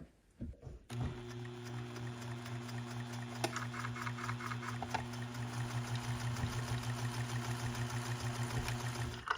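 A sewing machine stitches around a Christmas stocking of fabric and batting, a steady close motor hum with a fast rhythmic needle clatter running continuously after a brief handling start.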